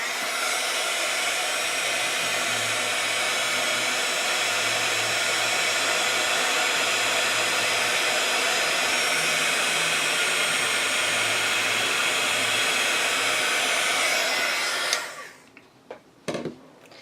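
A hair dryer blows steadily and loudly on Posca paint over a mandala coloring page, a continuous whooshing whir that runs for about fifteen seconds before cutting off, followed by a few faint handling clicks.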